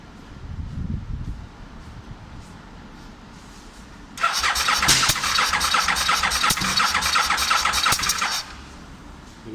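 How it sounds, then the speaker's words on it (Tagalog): A 2004 Aprilia RSV1000R Factory motorcycle engine cranks, then catches roughly with a loud misfiring, sputtering run for a few seconds before cutting out, close by with no speech. "Misfire lang. Ayaw mag-continue, misfire."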